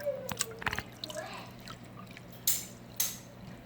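Clean water is scooped and poured into a nano reef tank in brief, close splashes and drips, with two sharper pours near the end over a quiet background.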